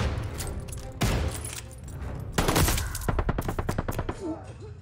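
Gunfire in the World War II shooter Call of Duty Vanguard, set at Stalingrad 1942: scattered single shots and booms give way to a rapid, evenly spaced automatic burst, loud and close amid battle ambience.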